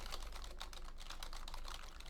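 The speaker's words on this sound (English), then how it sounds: "let me go ahead and demonstrate a little bit of this background noise rejection with some keyboard typing" Computer keyboard typing captured through a Logitech Yeti GX USB microphone during a background noise rejection test: a steady, fast run of crisp key clicks filling the whole stretch at a moderate, even level.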